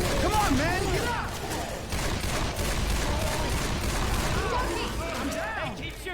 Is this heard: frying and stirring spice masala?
no